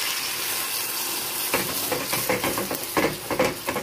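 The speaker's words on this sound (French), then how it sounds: "on va y ajouter un petit peu d'eau" Water poured into a pan of lightly browned leeks sets off a burst of sizzling and crackling that starts abruptly partway through, dense and close, following a softer steady background hiss.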